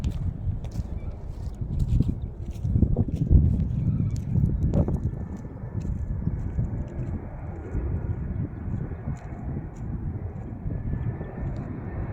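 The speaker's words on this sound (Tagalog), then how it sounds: "Aeroplano mga kaibigan, dumaan na." An airplane passing overhead makes a broad, low rumbling roar that swells and then slowly fades in an outdoor setting of grassland, with light rustling and occasional thumps close by.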